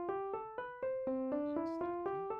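An electric piano plays a step-sequenced scale of about ten evenly spaced notes in a quick, steady rhythm, clear and close with a faint staticky edge.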